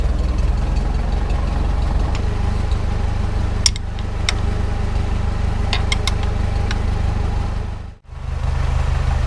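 Caterpillar Ten tractor engine running steadily, a loud, close, even low chug with a few clanks over it and a brief dip near the end, with no voices.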